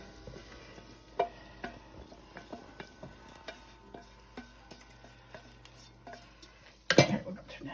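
A spoon stirring a chicken bog mixture into rice in a pot, with soft scraping and scattered light clinks against the pot, ending in a sharper rattling clatter near the end.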